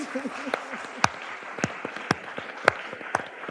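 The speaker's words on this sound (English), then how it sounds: "Please, an applause." Audience applause at a panel discussion on Russian media and activists in exile in Europe, a scattering of sharp claps, fairly close, spread unevenly across the room without any spoken words.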